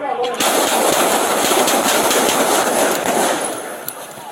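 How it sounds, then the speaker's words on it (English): Rapid gunfire from a police officer's handgun during an NYPD shooting, a loud dense burst of shots that fills the clip with little pause, with shouting voices mixed in. "Puts good, accurate rounds on target."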